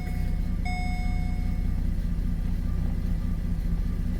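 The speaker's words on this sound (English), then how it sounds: "now when I start the car, I'll have a look, system check" A Holden VE Commodore car runs with a steady low engine rumble, while a short electronic chime rings out early and then fades.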